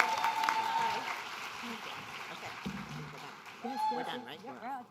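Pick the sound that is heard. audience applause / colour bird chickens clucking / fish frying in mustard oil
audience applause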